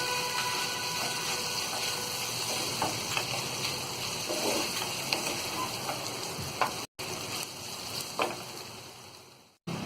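Okra (bhindi) fries in a pan for a crispy bhindi fry, a steady close sizzle and crackle with faint stirring scrapes, alone without talk, cutting out briefly near the end.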